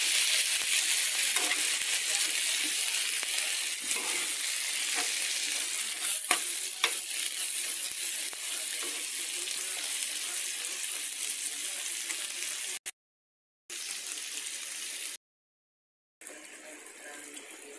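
Okra stew bubbles and sizzles steadily in a pot, a constant close hiss with faint stirring, then drops out briefly near the end.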